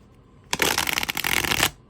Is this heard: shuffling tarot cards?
yes